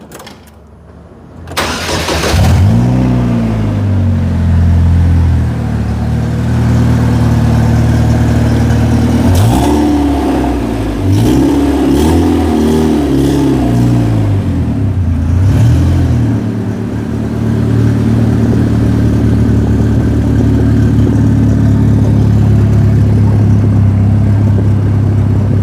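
DF Goblin street-legal go-kart engine fires up, then revs hard through several rising and falling bursts while driving, loud and close throughout, settling into a steady drone near the end.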